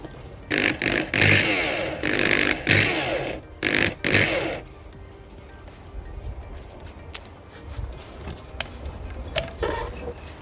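A Bosch electric drill with newly replaced carbon brushes runs in several loud whirring bursts of varying length, spinning up and cutting off, then quiet handling noises follow.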